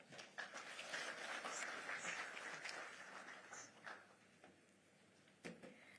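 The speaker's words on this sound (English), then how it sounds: "Let's applaud her." Conference audience applause at a SHAW occupational safety and health event, soft and fairly distant clapping swelling for a few seconds and then thinning out to scattered claps.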